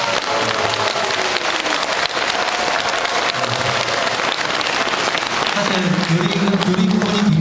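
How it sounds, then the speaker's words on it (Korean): A crowd applauds steadily with dense, sustained clapping throughout, loud and close, with a voice faintly audible near the end. "다시 한번 큰 박수 부탁드립니다."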